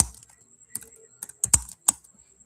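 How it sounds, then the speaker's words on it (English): Computer keyboard typing, close and crisp: a handful of sparse, irregular keystrokes with short pauses, nothing else audible. "Just give me a few seconds to type it"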